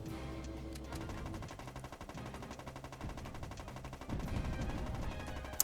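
Rapid gunfire and explosions from the PS2 game Borderline, a steady stream of shots and blasts running throughout at moderate level with a sharp burst near the end.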